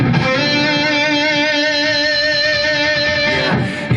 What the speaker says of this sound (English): Now that's definitely made it a thicker kind of distortion